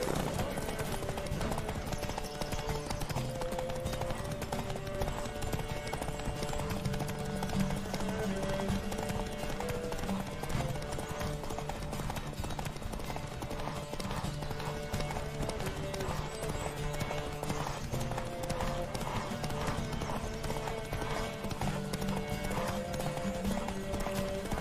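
A horse gallops in a race in The Witcher 3 video game, its steady clip-clop hoofbeats running under music and occasional voices.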